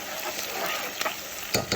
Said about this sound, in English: that's going to fry up in there